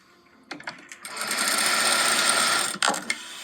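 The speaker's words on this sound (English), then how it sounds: "next strip and I'm going to sew it onto here" A sewing machine stitching a jelly roll quilt strip runs in one steady close burst of about two seconds, with a few handling knocks before and after.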